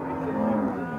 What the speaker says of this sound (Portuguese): Vaca pintada muito jeitosa assim mesmo.